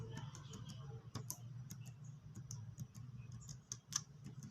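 Faint, quick keystrokes on a computer keyboard come in irregular bursts of clicks over a low steady hum, close but quiet.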